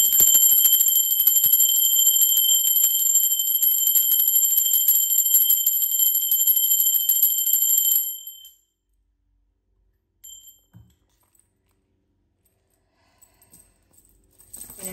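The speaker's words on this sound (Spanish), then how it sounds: "¡Va campana!" A bell rings continuously with a bright, sustained metallic trill for several seconds, then stops, leaving near silence with a few faint knocks.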